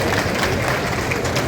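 Sustained applause and clapping from a crowd welcoming guests at a Haryana political rally attended by the Chief Minister, a dense, steady wash of hand claps at close range with no pauses.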